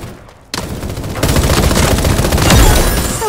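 Dense, sustained gunfire from the mobile battle royale game Super Mecha Champions erupts after a brief quiet moment and grows louder into a continuous rattling barrage.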